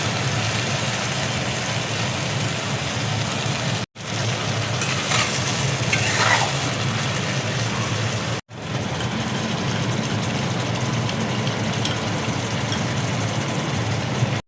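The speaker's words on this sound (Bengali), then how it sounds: "মশলা ধোয়া জলটা দেখো দিয়ে দিচ্ছি।" Jackfruit curry sizzles and bubbles in a pan after spice-washing water is poured in, a steady loud frying hiss with stirring that runs throughout, broken by two brief cuts.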